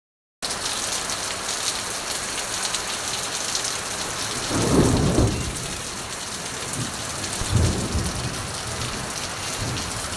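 Heavy rain pours steadily and close, with two deep rumbles of thunder rolling through the middle and later part, no voices present.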